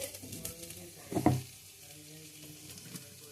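Chopped onions sizzle and get stirred in a pan as a fine paste for methi chicken goes in, with a brief louder burst of sizzling and stirring midway, then a steady low fry.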